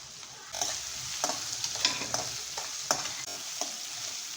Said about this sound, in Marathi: त्याचबरोबर मी हे मटार पण ॲड करते आहे छान असं परतून घ्यायचं आहे